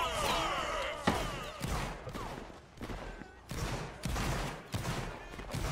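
Musket volleys crack out in a Napoleonic Wars game battle, a series of ragged, echoing fusillades at irregular intervals under a steady background din of distant shouting.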